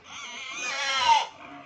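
A pig in rural Lobo, Batangas lets out one drawn-out, strained squeal lasting over a second, loud and close, rising then cutting off abruptly.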